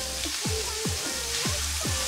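Chicken pieces frying in hot oil give a steady, loud sizzle with repeated low stirring scrapes, and no one talks.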